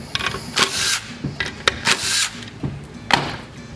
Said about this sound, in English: Take these 3 5/16 headed screws out.